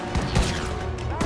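Sharp gunshot blasts ring out amid continuous battle noise in Call of Duty WWII, a few loud reports spaced apart with a final close burst, under faint shouting.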